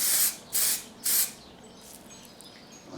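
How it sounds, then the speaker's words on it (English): Three quick, light bursts of spray paint hiss close by as camouflage is applied to an airgun, each puff short and evenly spaced, followed by faint quieter hissing. "there you go, very lightly sprayed"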